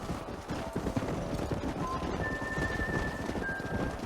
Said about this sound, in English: Let's push these horses.